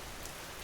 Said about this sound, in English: The rain sings to you quietly.